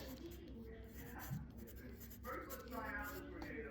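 Pen scratching out a word on paper, soft intermittent strokes up close, with a person talking over the writing.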